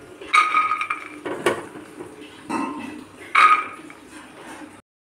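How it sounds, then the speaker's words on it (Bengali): Soaked, washed dried peas tipped into a pressure cooker, several metallic clatters and scrapes of peas and spoon against the pot, close and moderately loud, with no talking. "मटरटाके आमी कुकारे দিয়ে দিচ্ছি"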